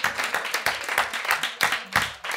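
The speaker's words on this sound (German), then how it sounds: "Ein riesen Applaus auf jeden Fall." Studio audience claps on a German talk show, loud distinct hand claps in an uneven rhythm that build into a short burst of applause with no voices on top.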